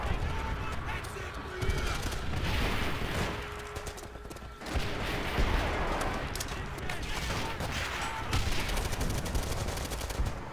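Automatic weapons rattle in bursts in Call of Duty: World at War on the Castle map, sharp rapid gunfire in repeated volleys with brief lulls, a voice talking over parts of it.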